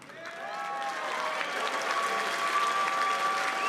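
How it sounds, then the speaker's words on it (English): Sustained audience applause fills an arm wrestling event hall, steady and fairly loud throughout with a bright tonal hum running underneath. "what about a round of applause for one of your own?"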